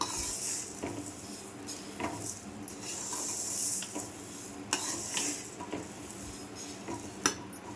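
Dry red chillies roasting in a large kadai for homemade chilli powder, stirred with a metal spoon that scrapes and clanks against the pan in irregular strokes over a soft rustling crackle, close and without speech.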